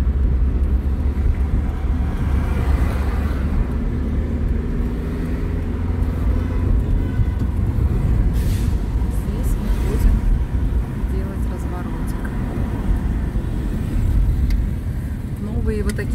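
A car drives through the streets of Tashkent, Uzbekistan, with a steady loud engine and road rumble from inside the cabin and a faint hiss of traffic, continuous throughout with no gaps.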